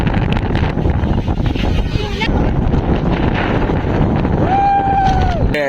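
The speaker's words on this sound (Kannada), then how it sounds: "ಗಾಳಿ ಗಾಳಿ ಫುಲ್ಲು ಜಾಸ್ತಿ ಐತೆ" Strong wind buffets the microphone in a constant loud roar on Mullayanagiri peak, Karnataka's highest summit, with voices talking faintly underneath.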